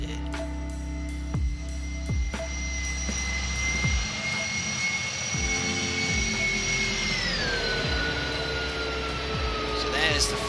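Steady jet engine whine of a Boeing 737 in a flight simulator during a bumpy landing, with tones sliding downward as power comes off, low thumps and rumble underneath, and someone talking over it.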